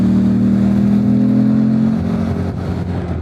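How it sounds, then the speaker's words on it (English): A 2025 Morbidelli T1002VX adventure motorcycle engine revs loudly up close with a steady, throaty drone that eases off after about two seconds and fades slightly toward the end. "Just that engine note, it's just lovely."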